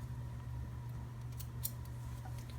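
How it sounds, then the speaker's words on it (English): Scissors snip loose threads on a sewn fabric water bottle cover, a few short crisp cuts standing out faintly over a steady low room hum, with no talking. "just gonna snip the threads right now"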